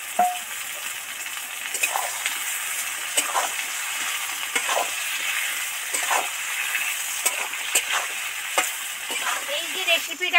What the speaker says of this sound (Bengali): এবার আলুর টুকরোগুলো তেলের মধ্যে দিয়ে দেব।